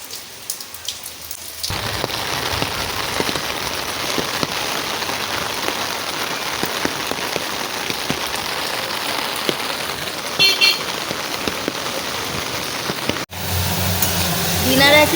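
Steady rain pours down through a full day of rainfall, a dense continuous patter on surfaces with a car horn near the end and voices in the background.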